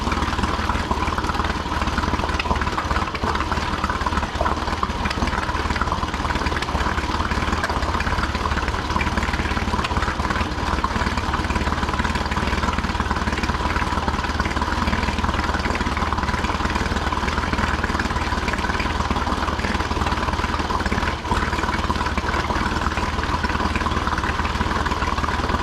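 A Honda 40 hp four-stroke BF40A outboard motor on a pontoon boat, an older engine, runs at a steady idle, a continuous mid-pitched drone with no pauses, close and loud throughout.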